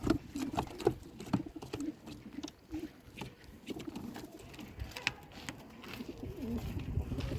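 Tumbler pigeons coo softly in a low, throaty warble, with faint wing flutters and scattered rustling around them.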